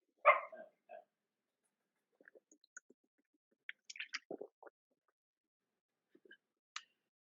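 A dog gives one loud bark at the start and then a few softer yips and whimpers, scattered faintly through otherwise quiet surroundings.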